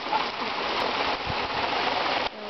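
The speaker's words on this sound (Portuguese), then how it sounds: "agora essa chuva do caramba" Heavy rain pours in a dense, steady hiss, loud and close, cutting off abruptly near the end.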